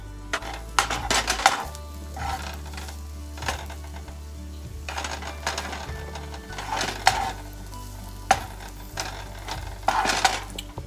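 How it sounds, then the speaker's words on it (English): Diced strips get scrambled in a skillet, with soft sizzling beneath intermittent scraping and clinking of a utensil against the pan, recurring every second or two at close range. "And now I'm just scrambling it up in a skillet."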